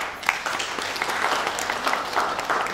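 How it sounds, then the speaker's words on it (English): Audience applause at a college orientation day felicitation welcoming a chief guest: a steady wash of many hands clapping, moderately loud and continuous throughout. "Huge round of applause."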